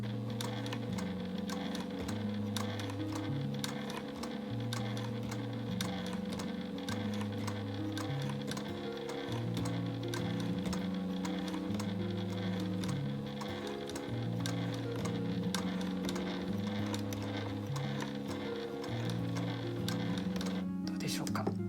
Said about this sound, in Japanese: じゃあちょっとここで少し一番踏み込みを浅くした速度で縫ってみたいと思います。